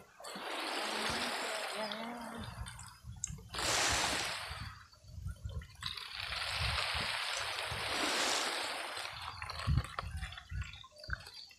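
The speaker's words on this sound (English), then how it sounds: "I'm going to pour this seawater in its container." Seawater pours into the container of a salt water lamp in two long gushing streams with a short break between them, close by, followed by light dripping and handling noises.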